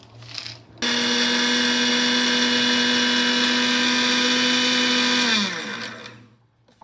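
A mixer grinder grinding roasted gram into flour starts abruptly, roars at a steady high-pitched whine for about four and a half seconds, then spins down and fades, close and loud with no talk.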